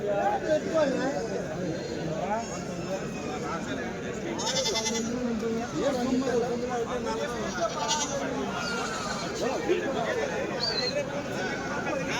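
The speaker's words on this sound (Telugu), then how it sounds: "అన్నీ పెద్ద మేకలు కదా?" Goats bleat repeatedly amid a busy crowd, with many voices chattering and bargaining around them in a noisy outdoor weekly goat market in Kadiri.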